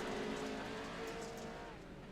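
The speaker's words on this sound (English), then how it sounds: "Now we got a race going right here." Pro 4 race cars in pack racing at Crandon, a steady roar of several engines running together on track, continuous and fairly loud throughout.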